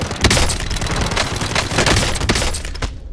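A rapid burst of loud, close gunfire in Call of Duty Warzone, shots cracking in a dense, uneven volley for a few seconds, with no voices.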